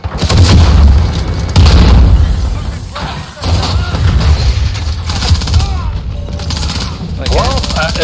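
Video game gunfire and explosions from Call of Duty Modern Warfare in a hardcore match, dense booming blasts and rapid shots running throughout, with someone talking over them.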